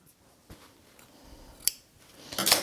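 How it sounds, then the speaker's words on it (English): Scissors snip loose thread tails off the cloth straps of a handmade ninja-style face mask: a few soft, sparse clicks, then a sharp close snip and a louder final cut, with no talk. "I'm going to cut these little tails off from the straps"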